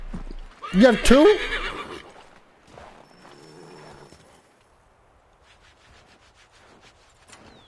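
In Assassin's Creed III, a horse lets out a loud, close whinny alongside hoof clops and rustling, then quieter movement follows while a voice speaks briefly.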